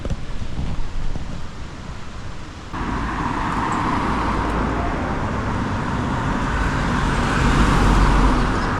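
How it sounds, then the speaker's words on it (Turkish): Cars pass along a road beside a hitchhiker near a waterfall in Ordu, Turkey, a steady rush of tyre and engine noise mixed with wind buffeting, growing fuller and louder partway through. "Çok araba geçiyor ama hep aile geçiyor."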